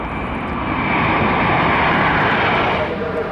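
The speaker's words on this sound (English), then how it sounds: "This Airbus taking off from Amsterdam created some absolutely stunning wingtip vortices during takeoff." An Airbus airliner takes off from Amsterdam, its engines producing a loud, continuous roar that swells and holds steady at close range, then eases slightly toward the end.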